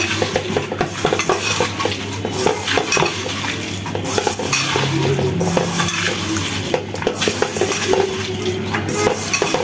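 Onions and small fish being stirred in a cooking pot, with continuous scraping and clinking of a utensil against the metal over a low sizzle, close and fairly loud, with no talking.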